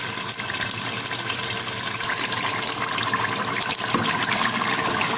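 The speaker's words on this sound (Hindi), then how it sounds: "अब हम क्या करते हैं, इस पर पानी डालते हैं और प्रेशर कुकर को बंद करते हैं 20 मिनट के लिए।" Water poured from a jug onto fried beef in a pressure cooker while making haleem gives a steady, continuous gushing pour that runs loud and close for the whole stretch.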